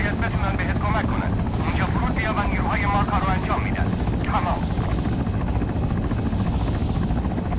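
A helicopter gunship in the video game Arma 3 flies with a steady, loud rotor and engine drone throughout, while a person talks over it.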